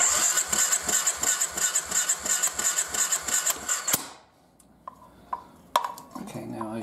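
A Triumph Bonneville motorcycle engine turns over on its starter during a compression test, with a loud, rhythmic chugging crank of about a dozen even pulses that stops abruptly and leaves a few faint clicks and clatters.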